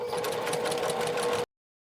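A sewing machine stitches a fabric face mask keychain case in a short, close burst of fast, even needle rattle that stops abruptly into silence.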